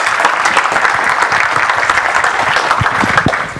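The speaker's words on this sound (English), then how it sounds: "So let's applaud Cedric Vincent and for his talk." A conference audience applauds steadily after a technical talk, a dense wash of clapping that stays loud throughout and tapers slightly at the end.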